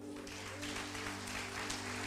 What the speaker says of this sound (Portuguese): aplaudir ao Senhor?